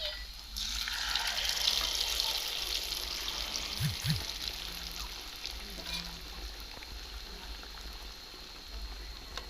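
Eggs sizzle in hot oil with garlic in a pan with a steady hiss and crackle, fairly quiet, joined by a few faint clinks.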